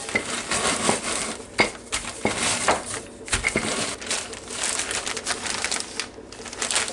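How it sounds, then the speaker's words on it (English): Crispy French's fried onions being crushed and mixed with flour in a bowl, close crunchy crackling and scraping with irregular bursts and occasional utensil clinks against the bowl. "these onions are so crispy, they just crumble at almost nothing"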